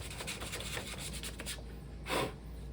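Sandpaper rubs back and forth over wooden book spine pieces in quick, close strokes, followed by one longer, louder scraping pass near the end.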